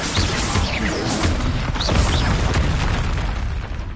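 A Confringo blasting spell explodes in Hogwarts Legacy, one of a loud, dense run of booming blasts and crashes that fill the whole stretch without a break.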